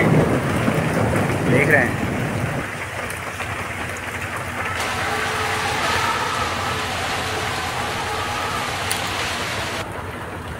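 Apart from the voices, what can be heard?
rain falling over Delhi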